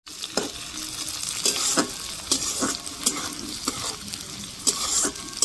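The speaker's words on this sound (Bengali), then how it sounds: "আবারও খুব ভালো করে নেড়ে নিব।" Potato, onion, carrot and tomato being stirred in a sizzling pan for spicy semolina, with a spatula scraping in repeated strokes about twice a second over a steady frying hiss.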